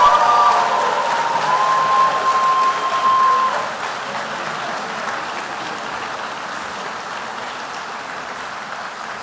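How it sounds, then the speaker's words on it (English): A large ceremony audience applauds dental students at a white coat ceremony, loud and sustained clapping that settles from a strong opening to a softer, even patter, with a brief whistle-like tone near the start. "How about a big round of applause for all of our white-coated students?"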